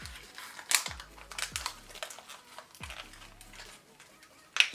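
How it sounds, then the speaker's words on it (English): Quiet, irregular crinkling and rustling, like plastic being handled up close, with a few sharper crackles and low thumps scattered throughout. "you hear me rustling this thing"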